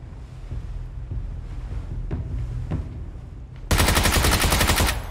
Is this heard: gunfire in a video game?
yes